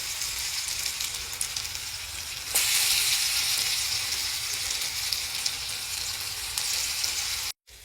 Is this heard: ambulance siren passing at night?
no